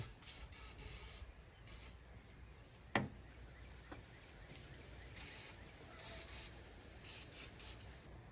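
Silicone lubricant is sprayed onto parts during engine work on a 2003 Toyota Highlander 2.4L, heard as several short, quiet hissing bursts with a sharp click partway through.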